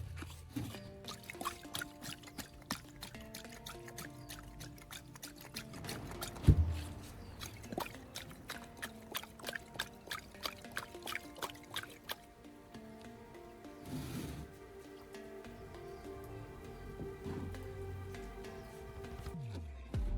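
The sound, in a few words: Coca-Cola being drained out of a car battery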